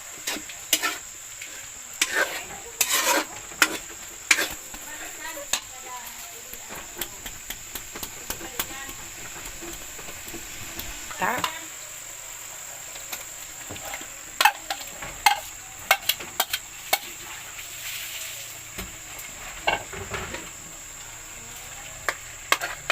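Liver and meat are stirred in a pan while igado with sweet potato cooks in a provincial home kitchen. A constant soft sizzle runs underneath, and irregular scraping and clattering knocks come from the stirring.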